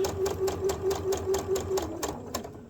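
A sewing machine stitches quilt wave blocks in a quick, even mechanical rhythm of needle strokes, close and steady, with a low motor hum underneath and no talking.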